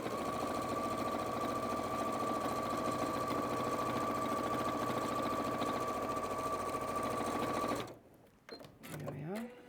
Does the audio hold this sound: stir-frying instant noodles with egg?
no